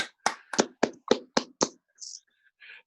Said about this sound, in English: We could give the department heads a round of applause.